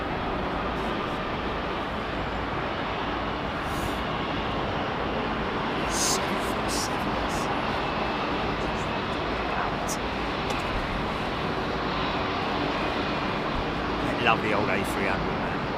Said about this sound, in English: Lovely old A300.